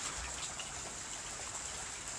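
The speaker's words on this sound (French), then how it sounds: "heureusement que la pluie tombe de manière modérée, continue" Moderate, steady rain falls continuously, giving a broad, even hiss with faint patter. It is fairly quiet and has no voices.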